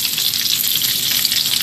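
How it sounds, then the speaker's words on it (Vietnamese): Fish frying in a pan, a continuous bright sizzle and crackle of hot oil, close and steady throughout with no talking. "rồi mình chiên cá rồi kia"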